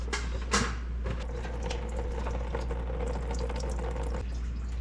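Coolant trickling and splashing out of the radiator drain valve on a 1979 Chevrolet C10 squarebody pickup, a steady close running-water sound over a low hum, with no talk.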